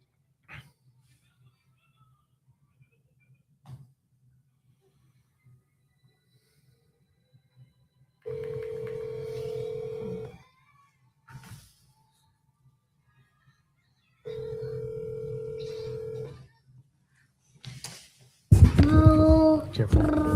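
Two steady ringback tones, each lasting about two seconds, come through a phone call with quiet pauses between them, followed by a person speaking near the end.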